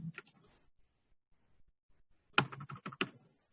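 Clicky computer keyboard typing as data is entered into Excel, one short burst, then a pause, then a quick cluster of close keystrokes.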